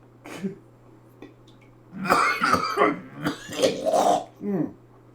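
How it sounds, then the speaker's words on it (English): A smoker's harsh, nasty cough: a burst of rough, throaty coughing and throat clearing, loud and close, with a few shorter hacks before and after and a steady low hum underneath. "So I have a nasty smoker's cough too."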